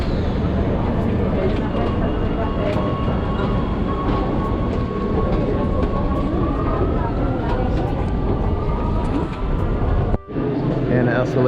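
A train in Italy rumbling steadily along with loud continuous rail noise and a rising whine, interrupted briefly near the end by a sharp drop.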